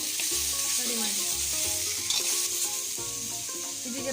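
Tomato and onion masala for chicken curry frying in a pan, a continuous crackling sizzle with scraping stirs and soft clinks throughout, close and alone, with no voices.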